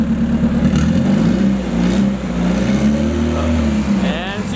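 A freshly rebuilt car engine revs loudly and close as the car pulls away, the tone rising and dipping through a few seconds of acceleration.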